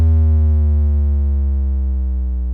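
A synthesized sine wave tone plays alone, steady and loud, with a smooth, gradual pitch drop across its length and clean harmonics throughout.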